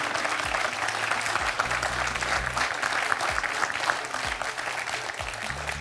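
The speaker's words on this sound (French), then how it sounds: "On peut applaudir Bruno qui vient de marquer 3 points." Steady, dense applause fills a TV quiz-show studio for a contestant who has just scored three points. The audience claps evenly and fairly loudly throughout, with no voices standing out.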